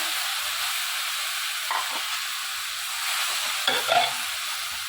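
Drumstick leaves (murungai keerai) sizzle steadily in a hot pan, a constant frying hiss with a couple of stirring scrapes, close and without talk.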